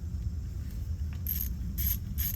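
A ratchet wrench working bolts loose on the front sprocket cover of a 2002 Suzuki DRZ 400 motorcycle, three short bright bursts of clicking heard close up over a low background rumble.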